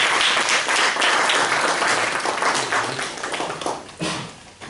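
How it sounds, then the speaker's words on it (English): An audience at a Toastmasters club meeting gives a speaker a round of applause, dense steady clapping that tapers off near the end. "Let's have a big round of applause for Gaurav."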